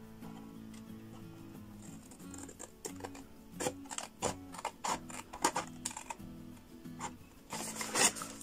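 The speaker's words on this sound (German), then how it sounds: "Da schneide ich jetzt erstmal in das mittlere Quadrat bis zur ersten Falzlinie ein" Scissors snip into folded paper for a tealight cake craft, giving irregular close crisp cuts and rustles with short pauses between them, fairly quiet and without speech.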